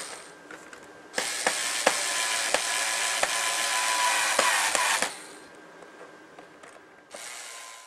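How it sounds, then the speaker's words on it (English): A screwdriver ratchets screws in to bolt the wing of an RC Cessna 182 model onto its fuselage. A close, dense run of sharp clicks lasts about four seconds, followed by a few softer clicks. "This is going to actually bolt the wing down to the main fuselage."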